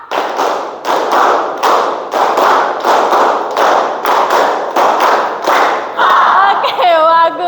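A classroom of students claps in unison in a repeated three-clap rhythm, sharp grouped claps recurring steadily and loudly, ending with a brief burst of cheering voices.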